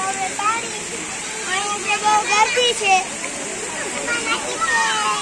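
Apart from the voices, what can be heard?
water spraying from elephant fountain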